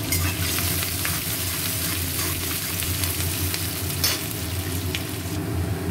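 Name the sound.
onions frying and being stirred in a pan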